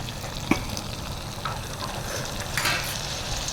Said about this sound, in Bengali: এবার এতে মশলার জল একটু দিয়ে দিচ্ছি।